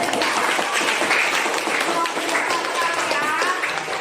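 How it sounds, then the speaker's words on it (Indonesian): A classroom full of students claps together for several seconds during a trigonometry lesson, steady dense applause with voices mixed in. "Kita kasih tepuk tangan dulu."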